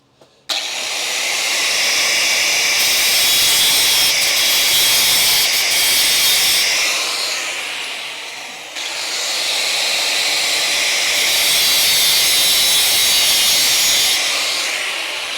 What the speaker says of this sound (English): just take a little bit off the edge with that edge with the cutting wheel